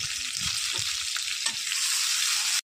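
Onions hiss and sizzle in hot oil in a wok, a loud, steady frying crackle heard close up and alone, with a few faint stirring scrapes, cutting off abruptly at the end.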